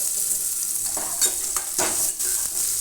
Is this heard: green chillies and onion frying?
yes